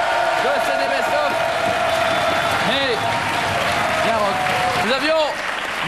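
A TV studio audience on a French entertainment show applauds loudly and steadily, with cheering and whoops rising over the clapping.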